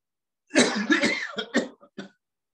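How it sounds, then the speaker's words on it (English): One person coughs in a short burst: a strong, drawn-out cough, then a few quicker, weaker coughs tapering off. "again, breathe in and cough again."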